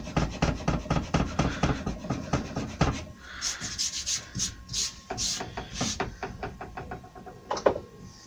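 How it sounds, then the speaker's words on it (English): A hard rubber eraser scrubs a pencil line off wood in quick back-and-forth strokes, close and rhythmic, then slower scattered rubs with a few light knocks. "There's a hard rubber, I've had this ages. I'm going to remove that line just because it's confusing."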